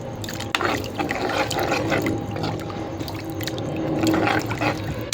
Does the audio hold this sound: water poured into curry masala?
yes